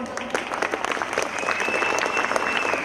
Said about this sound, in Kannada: ಒಂದ್ಸತಿ ಜೋರಾಗಿ ಚಪ್ಪಾಳೆ ಕೊಡಿ ನೋಡೋಣ.